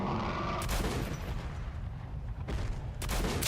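Gunfire in the shooter game Metro Last Light: dense, loud bursts of shots, with a dense volley at the start, a quieter stretch of scattered shots, then heavy firing again near the end.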